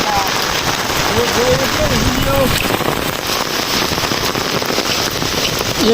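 Steady rain falls on a village on a cloudy day, a dense continuous patter close by that fills the whole stretch with little change, while a voice talks faintly underneath.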